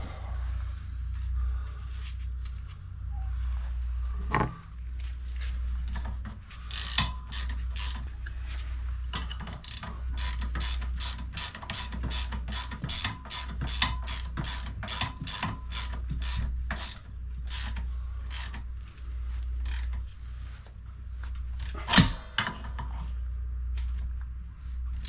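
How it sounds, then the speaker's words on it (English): Rapid ratchet clicks from a wrench tightening bolts on a bicycle built for a zombie apocalypse, coming in quick bursts of evenly spaced clicks over a low steady hum, close and fairly loud, with no talking. "I'll just go tighten down the other side, and we'll try it out, see how it works."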